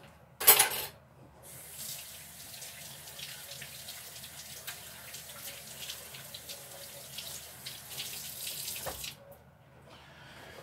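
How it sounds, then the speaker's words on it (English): Steady running tap water pours into a sink as hands are washed while pork butt for Dominican pernil is being prepared, a continuous close splash lasting most of the clip after a brief knock at the start. "I'm going to wash my hands real quick"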